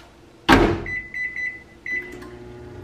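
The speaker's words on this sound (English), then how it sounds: "So I'll put this in the microwave for 90 seconds." A microwave oven reheating a pouch of 90-second jasmine rice: a sharp door thump, then a row of quick electronic button beeps and the low start of the running hum.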